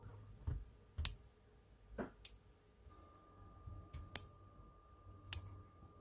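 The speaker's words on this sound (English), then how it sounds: "if there's a clicking noise from the relay" A garage door opener relay, triggered from a car's HomeLink button, clicks sharply about five times at irregular intervals, fairly close and isolated over a quiet background.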